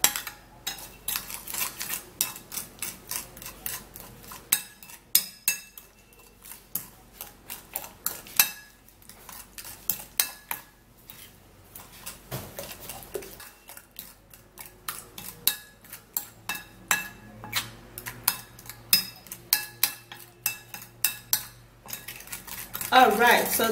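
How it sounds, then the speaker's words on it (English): A spoon stirs and mixes a paste in a bowl, making rapid, close clinks and scrapes against the sides in an uneven, continuous rhythm. "you have to give it a little time and stir and mix it"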